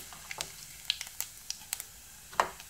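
Cumin seeds crackle in about two tablespoons of hot oil, a soft sizzle with scattered sharp pops and ticks spread over a few seconds.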